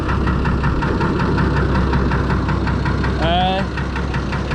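A Fordson Major tractor fitted with a Perkins straight-six engine runs steadily and close by, a continuous low, even throb, with a brief tonal voice-like sound near the end.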